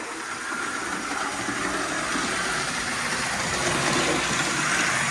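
A Tyco HO-scale GP20 model diesel locomotive motor runs continuously, a close, steady buzzing whir with faint rattling, holding even loudness for several seconds without speech.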